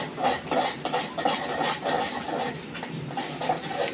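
A spoon scraping and stirring chili, cumin and coriander powder frying in a pan, repeated rhythmic scrapes against the metal at a close, moderate level.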